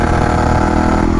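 Yamaha YZF 450 supermotard motorcycle engine running close and loud, a brief steady burble with a slight rise in pitch.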